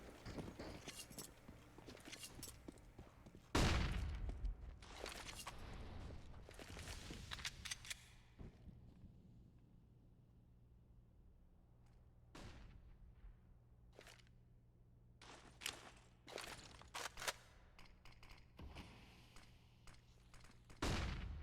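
Counter-Strike gunfire on Mirage from MAC-10 submachine guns and AK rifles, heard as several sharp bursts and single shots spread across a quiet stretch, some near and loud, others faint and distant.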